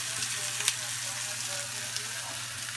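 Moose meat sizzles steadily on a hot grill, a continuous close hiss with a couple of faint pops and no talking.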